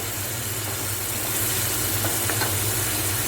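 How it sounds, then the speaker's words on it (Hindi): Onions and masala frying in a karahi for karahi gosht, a dense, loud, continuous sizzle and hiss with faint stirring scrapes underneath. "प्याज मैंने इसमें डाल दी है। थोड़ा मसाला और प्याज पक जाए"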